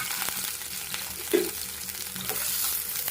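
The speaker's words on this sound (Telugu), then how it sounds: "ఉల్లిపాయలు పచ్చిమిరపకాయలు వేసేసుకుందాం." Onions and green chillies frying in a hot pan, a steady broadband sizzle with a few scraping stirs and a brief louder clatter near the middle, close and continuous with no talk.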